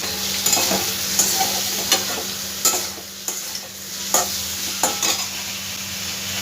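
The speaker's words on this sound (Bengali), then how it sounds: "একটু জল দিয়ে মশলাটাকে আমি ভালো করে ভেজে নেব যাতে কাঁচা গন্ধটা না থাকে" Spice paste and raw banana being fried in a pan over a gas flame, a steady sizzle broken by regular scraping stirs of a spatula roughly every second, close and fairly loud with no talking.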